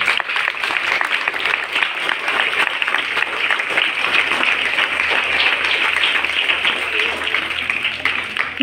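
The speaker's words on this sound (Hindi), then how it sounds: "और जोर से तालियां।" A school audience at a Hindi Diwas celebration applauds louder and longer, a sustained, even roar of many hands clapping at high intensity, with faint crowd murmur beneath.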